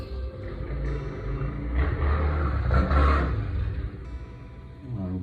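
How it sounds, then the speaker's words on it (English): A car's racing engine revs up loudly nearby, swelling to a roaring peak and then easing off, with a steady rumble underneath. "the cars, like rigged up with the racing engines"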